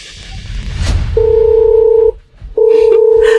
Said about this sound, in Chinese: 我现在就给财务打电话